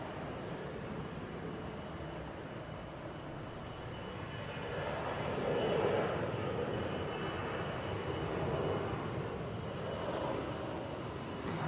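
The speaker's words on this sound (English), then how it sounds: "Heading to San Antonio. It's an A321 there." An Airbus A321 airliner heading for San Antonio, a distant jet engine roar that swells gently in the middle and fades, continuous and moderately faint with no speech.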